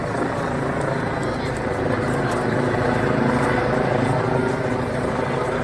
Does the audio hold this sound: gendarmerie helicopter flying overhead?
yes